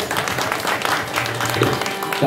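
Audience applause at a live Marathi bharud folk performance, a steady dense wash of clapping lasting throughout without a break.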